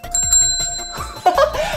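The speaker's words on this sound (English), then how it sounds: "A bell! Listen!" A bright bell rings with a clear sustained tone in a children's Halloween costume search, followed by a brief chuckle.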